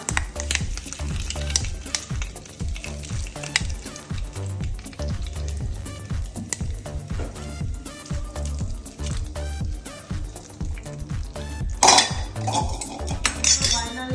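Hot oil tempering with sesame seeds sizzles and crackles steadily while metal utensils clink and scrape against a pan, with a sudden louder burst of sizzling near the end as it is poured onto dhokla.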